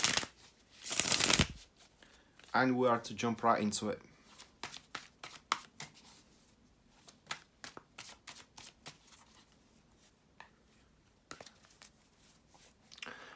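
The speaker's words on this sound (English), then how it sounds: "to shuffle the tarot cards" Tarot cards are shuffled in a quick riffle, followed by a series of sharp, scattered card snaps and taps; a person speaks briefly at the start.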